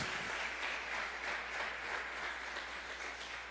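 A church congregation claps along during a worship service, a soft, steady wash of hand claps heard at a distance, faint and continuous throughout.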